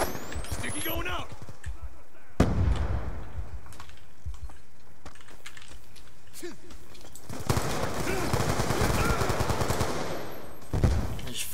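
Gunfire in Call of Duty: Black Ops II multiplayer team deathmatch, sharp bursts and loud single shots breaking out between quieter stretches, with a player talking over the action.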